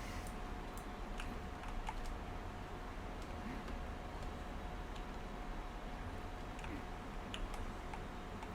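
Keyboard typing inside the computer game Emily is Away, imitating a fake AOL Instant Messenger chat: scattered light clicks and taps over a steady background hiss, with no talking.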